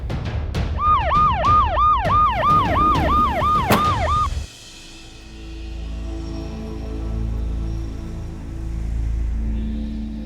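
A loud ambulance siren wails in rapid repeating up-and-down cycles for about four seconds, then cuts off abruptly, leaving a low engine rumble and faint traffic.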